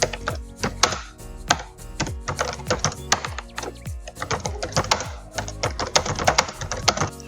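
Rapid, irregular keystrokes on a computer keyboard while content is entered into an app, a steady run of close, crisp taps with no voices.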